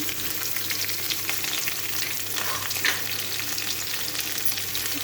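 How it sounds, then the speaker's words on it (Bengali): Half-fried vegetables with onion sizzle in a pan, an even, continuous crackling hiss close by, with soft stirring noises and a brief louder pop near the middle. "সবজিগুলো প্রায় হাফ ভাজা হয়েছে, এখনও ভালো করে ভাজা হয়নি"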